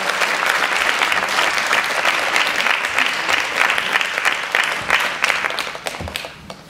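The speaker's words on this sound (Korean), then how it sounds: "우리 하나님 경배의 박수 돌립니다." A church revival congregation claps steadily and warmly, a full sustained round of applause that thins out toward the end.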